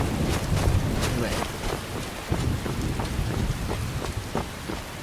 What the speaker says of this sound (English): rain seems to be clearing up